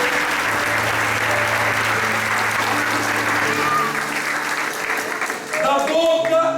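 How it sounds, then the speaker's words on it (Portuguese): A church congregation claps in strong, steady applause over held organ or keyboard chords, easing off near the end as the music shifts and a voice starts to come through. "Pode aplaudir o Senhor"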